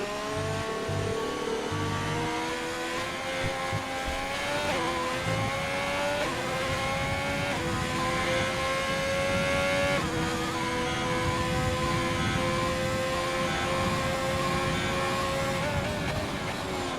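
Race car engine in the PXR racing video game at Monza, an onboard car on intermediate tyres, holding a steady loud whine that rises and falls through gear shifts across the whole stretch, continuous with no talk.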